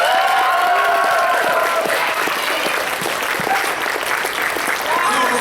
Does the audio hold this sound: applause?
yes